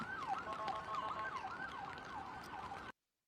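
An ambulance siren wails in a steady, repeating up-and-down cycle, heard from some distance amid faint traffic noise, then cuts off abruptly.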